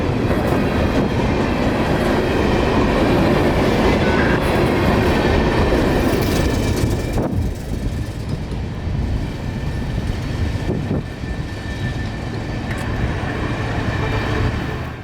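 A freight train rumbles past close by in Central Florida, loud and continuous, with rhythmic clacking of wheels over rail joints as the cars roll through.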